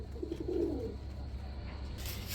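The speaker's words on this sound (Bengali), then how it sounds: "একজোড়া লাক্ষা কবুতর দেখাবো বন্ধুরা" Lakha pigeons at a pigeon seller's place give a soft, low cooing burst early on, fairly faint over a steady background hum, with no talk.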